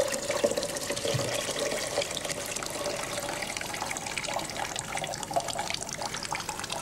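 Water poured into a container during a drinking-water filtration demonstration, a steady broadband splashing rush that continues evenly throughout, close and moderately loud, with no talk.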